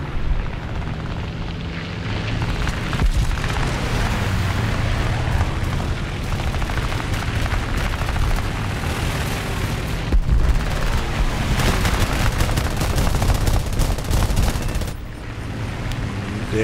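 Sustained aircraft gunfire in War Thunder's air arcade mode, flying a J6B: dense continuous rattling bursts over a steady engine drone, loud and close throughout with no voices.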